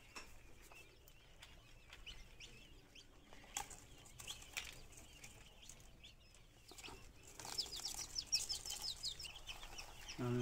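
Quail chicks being lifted out of a hatching machine into a basket, soft fluttering and rustling with faint high cheeping that grows busier toward the end, quiet and close.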